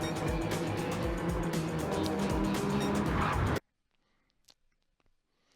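Cars in a Toyota Gazoo Racing GT esports race roar past the start-finish line near the end of a six-lap race. The loud, layered engine noise runs for a few seconds, then drops abruptly to near silence.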